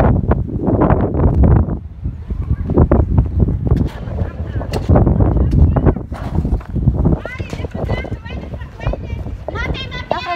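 Strong gusty wind of a dust storm in Kuwait roaring into the microphone, heavy low rumble throughout, while several people talk and exclaim over it.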